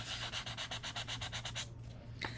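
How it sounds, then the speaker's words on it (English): A small sanding block rubbed over a Christmas craft piece in quick, even back-and-forth strokes, about a dozen close scratchy passes, then it stops and a faint rustle follows. "I have a little sanding block here."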